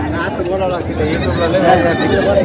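Osmanabadi goats bleat at the busy Khandoba goat market in Parbhani, with repeated wavering cries close by, layered over someone talking and crowd chatter.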